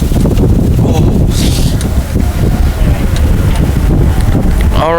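A strong, stiff headwind buffets the microphone in a continuous loud roar during a heavyweight men's rowing race on open water, with voices faintly audible beneath.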